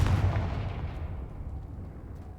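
A Confringo fire spell blasts in Hogwarts Legacy, a loud booming explosion at the start that rumbles on and slowly fades over two seconds.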